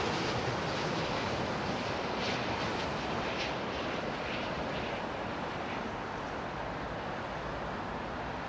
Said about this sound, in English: BA52 is just on approach.